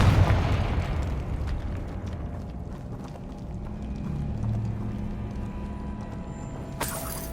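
A fiery Confringo spell blast in the Hogwarts Legacy video game booms loudly at the start, then rumbles and crackles as it decays, with a sharp burst near the end.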